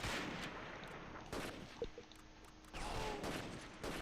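Gunfire in the World War II tactics game Close Combat, with bursts of shots and heavier blasts rolling over a dense, noisy battle din.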